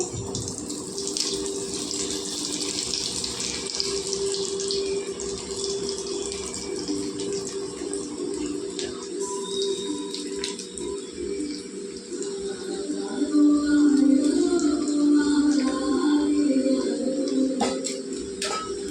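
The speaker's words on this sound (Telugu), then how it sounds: "చూడండి, నూనె బాగా కాగిందండి. ఇప్పుడు మనం రొయ్యలు వేసుకుందామండి, కలిపించుకున్నవి." Marinated prawns sizzle in hot oil in a kadai, a steady broadband hiss that swells louder toward the end, continuous with no talk over it.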